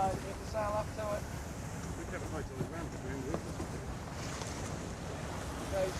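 Wind rushes and waves wash steadily around a racing yacht under sail in open ocean, with gusts buffeting the microphone and crew voices briefly calling out over the constant noise.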